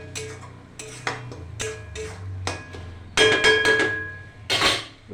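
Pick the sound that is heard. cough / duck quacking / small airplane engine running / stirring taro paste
stirring taro paste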